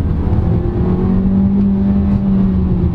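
A 2022 MG HS Trophy compact crossover SUV accelerates hard from a standstill in sport mode, its engine droning loud and steady from inside the cabin with a sustained rising hum.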